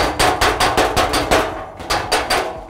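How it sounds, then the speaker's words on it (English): A hammer strikes a car body panel against a dolly to work out a dent in a collision repair shop, giving about ten loud, metallic blows in a steady rhythm close by. "The first one down here will be repaired with a hammer and a dolly."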